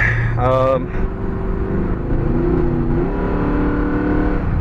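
A Lincoln's 4.6L V8 engine pulls steadily under load uphill, its pitch climbing and shifting between gears, with a brief voice near the start.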